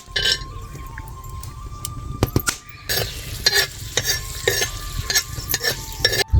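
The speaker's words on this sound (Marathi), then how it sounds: "आता हे खोबरं हे तळून घ्यायचं" Dried coconut fries on a hot tava, with a loud sizzle broken by repeated metal clinks and scrapes of a spatula against the pan, and no talking.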